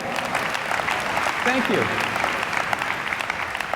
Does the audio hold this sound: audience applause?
yes